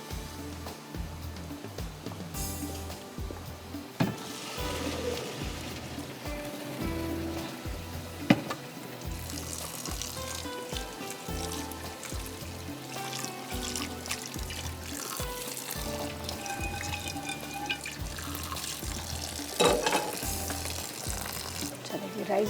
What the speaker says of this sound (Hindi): यहाँ पर जब तक चिकन हमारा फ्राई हो रहा है